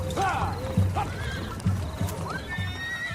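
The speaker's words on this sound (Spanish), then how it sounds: "escuché el ruido como de un caballo que parecía sonar cerca" A horse pulling a cart neighs and whinnies in several rising calls, with steady clip-clop hoofbeats below, close and clear over a faint background.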